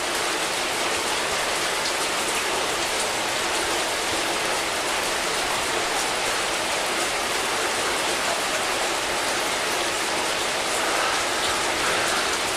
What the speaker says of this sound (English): I've got a lovely stream of water coming down here